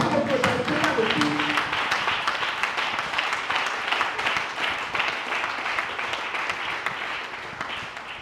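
A church congregation breaks into applause and acclamation praising God, dense clapping mixed with cheering voices that gradually eases in intensity.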